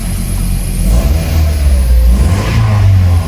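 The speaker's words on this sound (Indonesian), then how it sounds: "sekarang kita coba untuk mesinnya. Mesinnya ini senyap banget" A 2007 Toyota Vios G engine in top condition runs close by, a low steady hum that swells twice as the revs rise, with no talking.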